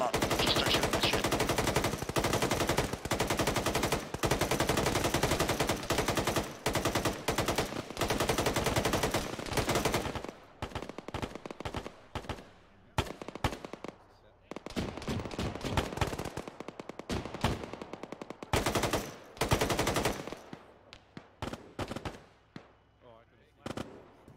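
Dense, loud bursts of automatic and single-shot gunfire from an Arma combat video game fill the first ten seconds, then break into scattered, more intermittent volleys.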